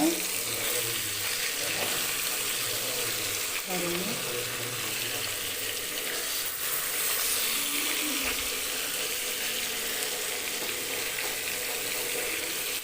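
Seer fish (vanjaram) slices coated in masala fry in a pan, a steady, dense sizzle running throughout at close range, with faint clinks as the pieces are turned.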